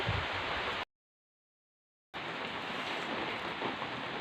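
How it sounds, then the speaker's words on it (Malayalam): Steady rain falls in a continuous soft wash of noise, dropping out briefly near the middle before resuming. "മഴ പെയ്യുന്നുണ്ട് ഇടയിൽ ഇരുന്നൂടാ നല്ല മഴ ഉണ്ട്"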